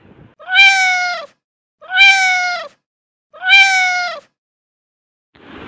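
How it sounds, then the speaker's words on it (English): Scratch's cartoon cat meow sound effect plays three times in a row, each meow clear, close and evenly spaced with short silences between, followed by a brief soft noise at the end. "play the meow sound and again comes backward to 10 steps and then play the meow"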